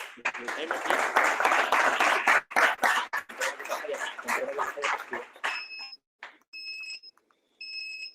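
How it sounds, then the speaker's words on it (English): A burst of crowd applause at a startup roadshow event in Málaga fills the first few seconds, dense and loud, then thins out as sharp electronic beeps chirp in short repeated pulses. "Let's give a huge applause"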